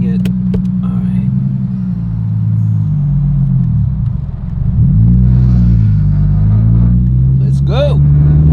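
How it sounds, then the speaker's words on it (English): Deep, steady engine rumble from a 1999 Nissan Skyline GTR R34 with over 500 horsepower, droning loud and close throughout with a slight dip and rise in pitch midway, as if revving, while people talk over it. "It's a Nissan GTR 1999, 500 plus horsepower."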